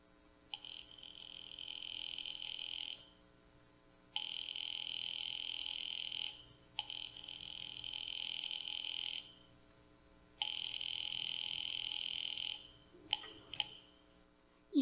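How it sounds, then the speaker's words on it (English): A telephone busy signal for a radio drama: four long, steady buzzing tones separated by short gaps, followed by a few quick clicks near the end, loud and with no voices over it. "I've been dialing Murray Hill 70093 for the last 3/4 of an hour, and the line is always busy"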